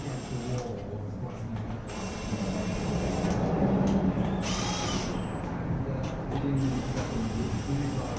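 A power tool spins down the main bearing cap bolts on a K24 engine during main bearing installation, a steady whirring drive running for several seconds with short stops and a high whine, close and fairly loud, while someone talks over it.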